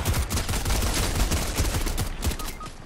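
Dense, rapid gunfire rattles in Fortnite, a steady fusillade of close shots and machine-gun bursts that fills the whole stretch without a pause.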